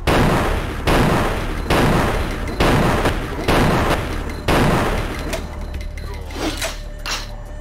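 Heavy booming gunshots in the video game Vampire: Bloodlines fire in a slow, evenly spaced series of about six loud blasts, each with a long rumbling decay, followed by quieter rumble.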